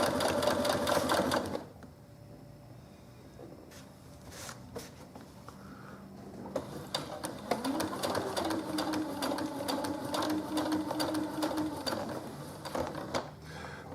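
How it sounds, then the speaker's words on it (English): A sewing machine stitches a garment collar point, running in bursts of close, loud mechanical whirring and clicking between brief pauses. "We sew up to 1 stitch before the mark."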